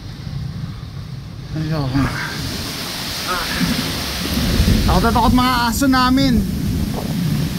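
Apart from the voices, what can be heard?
heavy rain arriving with wind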